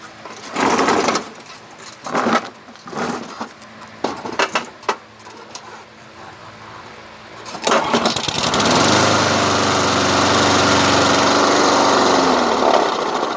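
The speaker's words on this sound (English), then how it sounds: "But it's a one pull start. Hold on a second, we'll see if I can get you a start here." A push lawn mower with a freshly cleaned carburetor and new oil is handled with clunks and rattles, then its small engine catches on one pull and runs loud and steady.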